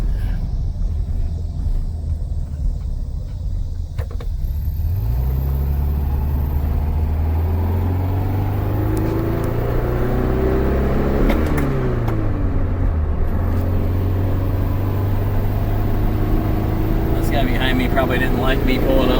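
A 1968 Volkswagen Beetle with a stick shift drives down the road, its air-cooled engine rumbling steadily up close and rising and falling through the gears, with a person's voice heard over it in places.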